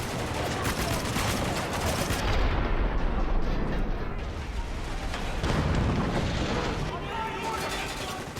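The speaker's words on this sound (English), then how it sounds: "you can just hear the full weight of the explosions that are being caused by these crates of ordnance" In the Spec Ops: The Line video game, crates of ordnance blow up during a turret segment. Loud, continuous explosions and rapid gunfire pile on top of each other in a dense, rumbling barrage.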